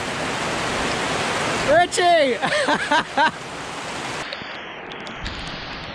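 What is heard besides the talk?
pouring rain storm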